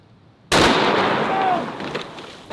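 One enormous, close boom from the very powerful Fat Mac rifle erupts after a quiet moment and rolls out into a long, loud echoing roar.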